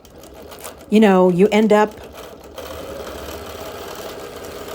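A quilting sewing machine stitches across a quilt of busy prints, running with a steady, even mechanical hum after a brief spoken phrase near the start.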